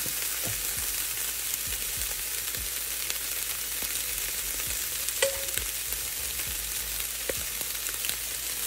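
Ground turkey browns in a pan with a steady, close crackling sizzle that holds throughout, broken by a few soft clicks and scrapes of stirring, and no voices.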